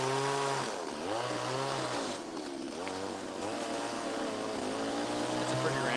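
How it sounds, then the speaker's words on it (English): A chainsaw runs steadily during wood carving, its engine note dipping and rising as it bites into the wood, loud and continuous throughout. "Sounds rough on the chainsaw."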